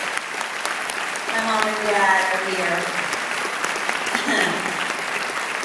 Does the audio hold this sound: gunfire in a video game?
no